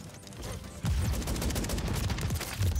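Unsuppressed JAK Jawbreaker fire in a video game, a dense loud stream of rapid automatic shots with sharp, booming reports, continuous and close throughout.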